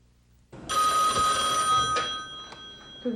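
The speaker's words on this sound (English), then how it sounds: "the Lowndes County Jail was still being flooded with phone calls" A telephone bell rings loud and close at the Lowndes County Jail, one sustained ring of about two and a half seconds after a quiet moment, with a brief clatter at the end.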